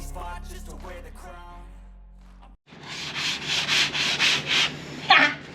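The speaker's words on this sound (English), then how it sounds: "I am giving the sail drive legs a bit of a sand back to smooth it up." Sandpaper is worked by hand over the sail drive legs of a boat, giving a loud, close, rhythmic scraping in repeated even strokes. It starts after a quieter stretch of music and speech.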